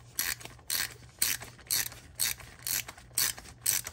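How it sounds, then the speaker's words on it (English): A hand ratchet loosening a spark plug on a first-generation Toyota Tundra, clicking in eight regular bursts of rapid pawl ticks, close and clear with no talk. "once you get the ratchet on there, should just be able to, yeah, see, this one's not even on there very tight"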